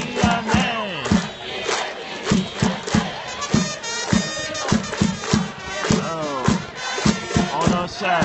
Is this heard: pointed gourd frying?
no